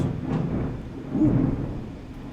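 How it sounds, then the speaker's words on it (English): Thunder rumbles in the UFO: Enemy Unknown game, a low, steady roll with a slight swell partway through, alongside a soft rain-like hiss. "I hope that came up through on the mic. So thunder."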